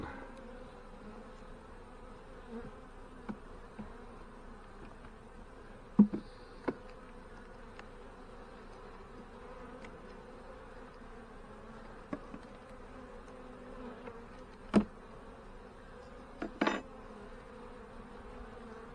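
Honey bees hover around a backyard hive in a soft, continuous drone, with a few louder buzzes as individual bees pass close, and no voices.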